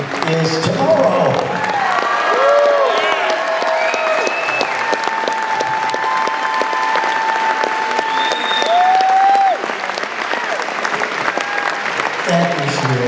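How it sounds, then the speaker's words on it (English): A theatre audience at a Wayne Newton show breaks into loud, sustained applause with scattered whoops and cheers, filling the whole stretch without pause. "Another big round of applause for you, ladies and gentlemen"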